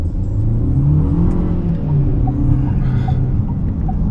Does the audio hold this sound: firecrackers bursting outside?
no